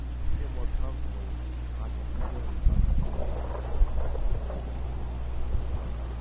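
Steady rain falls in the Fallout 4 video game, with low rumbling thunder swelling in a few soft bursts beneath it at moderate volume.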